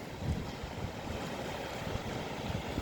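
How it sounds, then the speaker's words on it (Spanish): A harbour in stormy weather at Marenys de Rafalcaid, Gandia, with constant wind rushing across the microphone and steady surf and wave wash, a dense roar with no distinct events and no voices. "Aquí está el puerto"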